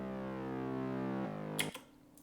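A future bass synth chord, distorted with Camel Crusher and EQ'd to trim the highs and lows, holds as a smooth buzzing tone for over a second, then cuts off into a few faint clicks.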